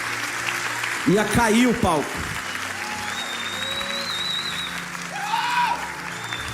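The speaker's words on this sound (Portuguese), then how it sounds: "Eu vou pedir uma salva de palmas para todos os nossos voluntários." A church congregation applauds its volunteers, the clapping spreading through the room as a steady wash under a voice that speaks briefly over it.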